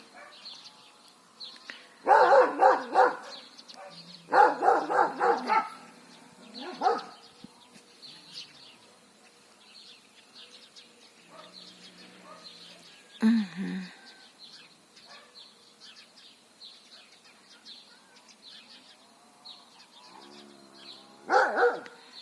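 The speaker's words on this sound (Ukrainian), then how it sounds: "Сусідські собаки, як завжди," Dogs bark in several bursts of rapid woofs at a moderate distance, separated by quieter stretches with faint birdsong.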